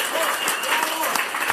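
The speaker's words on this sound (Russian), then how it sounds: "Ваши аплодисменты." Audience applause at a concert, a dense wash of clapping right at the end of the show, with a presenter's voice talking over it.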